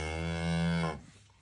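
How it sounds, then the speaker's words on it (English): A cow on a farm, with a young calf at her side, gives one loud sustained moo lasting close to a second, then quiet farmyard air. "And the cow that's got the calf,"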